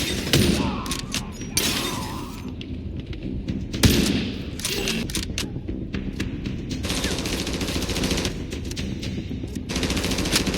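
Sustained automatic gunfire with bursts and sharp shots fills a firefight in the video game Tom Clancy's The Division Resurgence, loud and continuous with rapid volleys.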